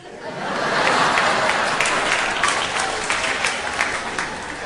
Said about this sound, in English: Some people applauding there